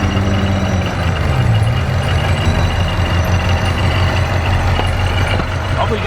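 A Ford GT500 engine runs steadily at a loud, close idle, with a constant low rumble throughout and no pauses.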